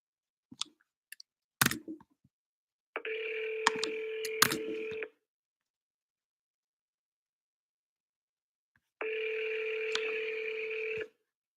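Two long ringback tones of a phone call sound on the line with a pause between them. Scattered clicks come first.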